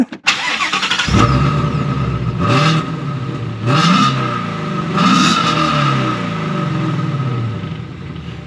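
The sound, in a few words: Mustang sports car engine revving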